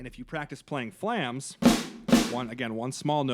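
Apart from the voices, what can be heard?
No everyday noises stand out.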